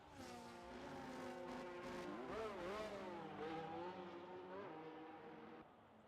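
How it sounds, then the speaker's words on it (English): Racing car engines from the F1 25 video game whine and rev at the Belgium circuit, their pitch climbing and dipping through gear changes, heard fairly faintly and steadily. "Much better when you can hear the cars."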